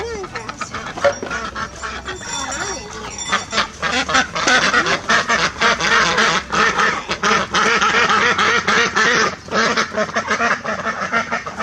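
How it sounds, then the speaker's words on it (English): Ducks on a small farm on a winter morning quack loudly and insistently, many birds calling over one another at close range, with a person talking over the flock. "we'll bring the little duckies in"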